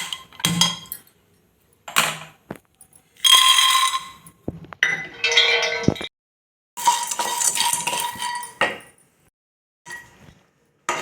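Already-roasted peanuts dry-roasting a little more in a pan, heard as separate bursts of dry scraping and rattling with short silent gaps between stirs, close up and without talk.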